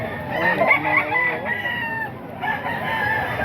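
Roosters for sale crow loudly nearby, their long calls overlapping with clucking fowl amid the steady din of a crowded poultry market.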